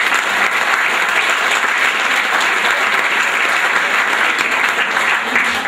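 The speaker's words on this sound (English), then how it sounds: "Let's have a round of applause for her." An audience at a high school senior sports banquet applauds steadily for several seconds, a dense, continuous wash of clapping filling the room.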